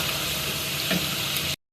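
Chicken stew being dished out of a pot, with a steady, close sizzling, bubbling and stirring wash that holds evenly and then stops abruptly.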